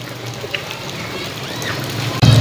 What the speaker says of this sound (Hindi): ये जितनी तेज़ बारिश हुई है ना